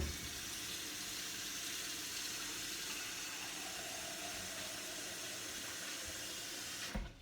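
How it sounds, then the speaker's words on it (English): Water runs from a tap into a pot as it fills, in a steady loud hiss and splash that lasts several seconds and then cuts off sharply near the end. "we're going to fill this up with some water"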